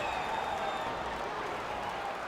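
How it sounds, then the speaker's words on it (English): A capacity crowd applauds and cheers in a UFC 5 video game arena as a new round begins, a steady, dense wash of clapping that holds at an even level throughout. "an appreciative capacity crowd on its feet as this next round gets underway"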